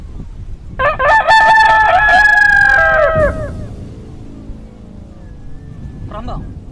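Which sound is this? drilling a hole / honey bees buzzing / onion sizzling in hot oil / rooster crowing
rooster crowing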